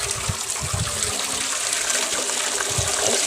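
Water is poured into a fish tank holding sand, giving a continuous splashing gush with bubbling low churning, close and fairly loud, with no voices.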